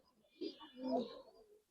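A Giribaz pigeon gives a soft, low coo, faint and brief, rising to a short throaty swell before trailing off into quiet.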